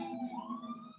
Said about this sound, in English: the sirens always want to pass my gate